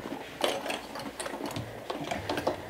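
A sewing machine stitches a circular seam on a bag, running steadily at close range in a continuous mechanical whir with rapid needle rhythm and small speed changes, with no talking.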